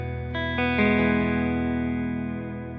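Electric guitar through a Victory amp with spring reverb plays a few sustained, distorted chords, each struck note ringing out and decaying slowly in a reverberant wash.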